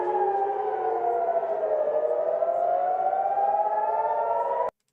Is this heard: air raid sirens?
yes